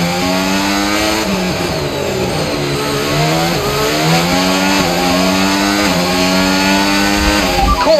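An F1 car in the F1 25 racing game accelerates hard with a loud, steady high-pitched engine note. The whine climbs through several gears, dropping and rising again at each shift, with no voices over it.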